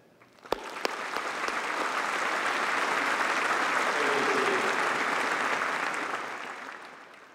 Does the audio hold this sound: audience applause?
yes